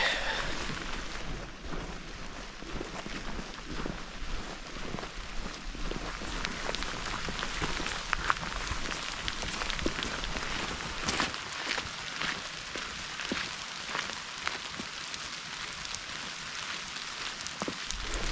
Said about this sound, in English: This is just a pop-up shower